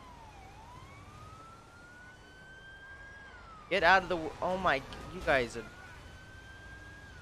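A police car siren in the video game GTA V with the LSPDFR mod, wailing steadily and rising slowly, while someone shouts briefly over it midway through.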